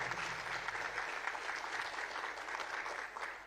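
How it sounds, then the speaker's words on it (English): An audience gives a steady round of applause as thanks to the sponsor Snap-on, a dense, even wash of clapping that continues for several seconds with no voices over it. "So please give Snap-on a round of applause for that."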